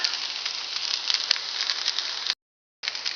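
Cabbage and noodles frying in a pan for a low-fat Hungarian dish, a steady close hissing sizzle with faint crackles, briefly cut to silence before resuming.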